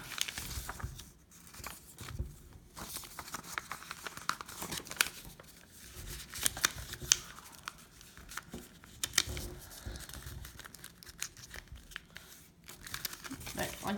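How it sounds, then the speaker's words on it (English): Paper template crinkling and rustling up close as it is flipped and folded into thirds, with irregular crisp crumples and soft creasing sounds throughout. "Flip it over and fold it, and try to fold it into thirds."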